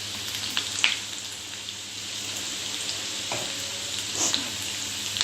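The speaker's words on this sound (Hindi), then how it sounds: "अब इसका बघार तैयार हो रहा है" Onions frying in leftover pakora oil for a tempering, a low steady sizzle with a few sharper crackles and faint utensil taps, close by, with no voices.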